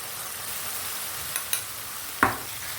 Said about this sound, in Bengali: মশলাটাকে একটু ভাজা ভাজা করে নেব আগে